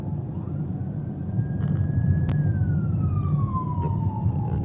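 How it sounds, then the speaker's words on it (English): An ambulance siren wailing on a Las Vegas street, one long rising then falling tone over loud traffic rumble, fairly near. "Ambulance."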